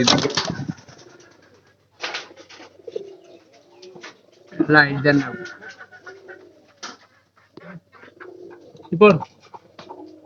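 Pigeons in a coop holding about thirteen pairs coo in soft, rolling bursts, with some wing flapping, alongside a person talking nearby; the cooing rises loudest around the middle and near the end.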